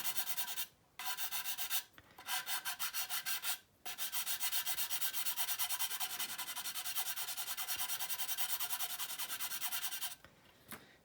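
A sanding stick rubs back and forth along a seam line on a model part with light pressure, a close, dry, rhythmic scratching that runs in steady strokes with a few short pauses.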